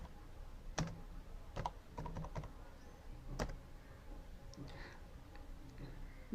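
Commands are typed on a computer keyboard, with irregular clusters of light, crisp key clicks and short pauses between bursts. The typing is quiet and close, with no voices.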